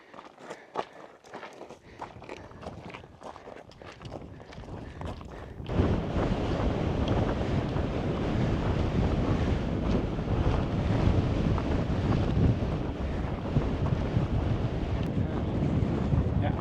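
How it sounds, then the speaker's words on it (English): Strong wind on a high mountain trail near Bong La pass (4650 m), Ladakh, buffets the microphone, a roaring broadband rush that swells after a few seconds of quieter footsteps and breeze, then stays loud and steady. "Again windy."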